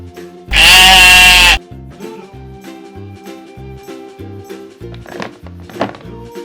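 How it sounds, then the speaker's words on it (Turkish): A ram gives one loud, drawn-out bleat lasting about a second, followed by several dull knocks and thumps with faint background chatter. "Bu bir koç."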